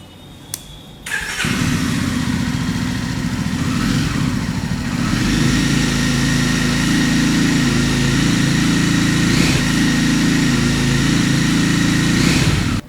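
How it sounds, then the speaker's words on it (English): A 2021 Jawa 42 2.1 motorcycle with a double silencer exhaust starts up and settles into a loud, close, throbbing idle with occasional throttle blips, and no one speaks. "People really liking the sound of this double silencer."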